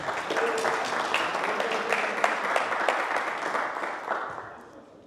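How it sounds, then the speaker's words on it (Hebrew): An audience at a Torah lecture in Los Angeles applauds a rabbi, a dense wash of clapping from many hands that holds steady for several seconds, then tapers off toward the end. "איפה מחיאות כפיים לרב?"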